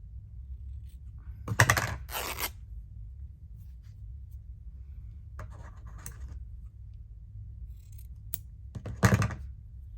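Scissors snip through fabric pieces during a stitchery project, heard as a few sharp, close cutting bursts spaced several seconds apart, with quieter rustling and small snips in between and no talking.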